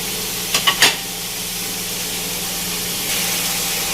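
Whole garam masala spices frying in a pot as the base of a smoky beef yogurt curry, giving a steady, moderate hiss of sizzling oil with a few quick clicks early on.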